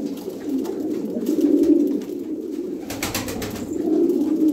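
Fancy pigeons of Budapest-type, embroidered and olive filo breeds coo in a coop, a male nudging his hen off her eggs; soft, rolling coos pulse steadily and close by with a few wing-like rustles and no talk.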